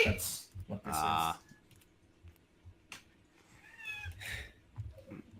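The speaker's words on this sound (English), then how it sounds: "My cat is getting his medicine." A pet cat meows while being given medicine indoors, with a couple of brief meows separated by quiet stretches, and someone talks nearby.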